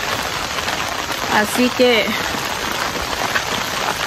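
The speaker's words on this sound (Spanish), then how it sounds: "porque se vino la lluvia" Rain falls steadily in a continuous dense hiss that fills the whole clip, while a person speaks briefly in Spanish over it.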